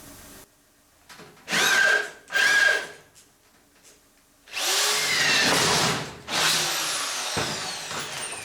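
A power drill in a fabrication workshop runs in two short whirring bursts, then two longer, louder spells of grinding and revving. It is near and loud, with quiet gaps between.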